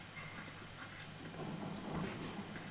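Faint, steady rain hisses in a scene from a television drama, a soft continuous patter with a low rumble underneath, heard alone.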